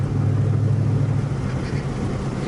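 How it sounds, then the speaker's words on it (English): A 2016 Dodge Challenger 392 Hemi Scat Pack with a Flowmaster cat-back exhaust idles in a steady, deep rumble, close and continuous with no voices over it. "Nice sounding car, especially with this Flowmaster Cat back system that's on it"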